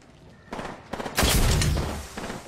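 Video game gunfire in a shooter match, a loud burst of shots and booms swelling in the middle then tapering, close and heavy.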